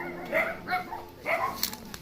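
Several dogs at a rural Philippine home bark and yip in short, uneven bursts, some closer and some farther off, with faint whimpering in between and no talk over them.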